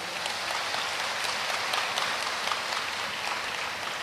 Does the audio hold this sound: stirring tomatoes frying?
no